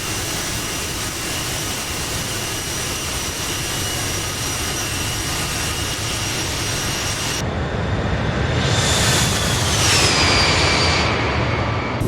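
Bombardier CRJ regional jet engines in Flight Simulator roar steadily at full takeoff power, a loud continuous broadband rush with a rising whine and a shift in tone near the end, no voices.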